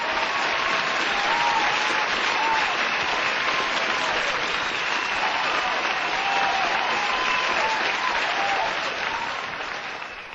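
A crowd claps and cheers for veterans, a dense, sustained wash of applause with a few faint voices mixed in, easing slightly at the end.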